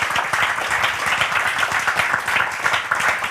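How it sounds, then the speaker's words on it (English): A festival audience in Prague gives brief, even applause, with many hands clapping at a steady level throughout. "Maybe let's try to clap last time."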